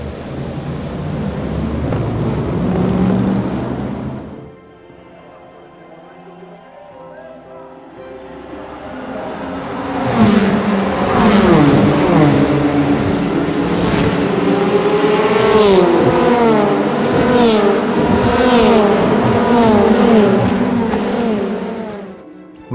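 A Ford GT race car accelerates out of the final chicane at Le Mans, heading up a crowd-lined straight. After a quieter opening, its engine roars in loudly at about ten seconds, with rising, revving pitch sweeps that carry on to the end.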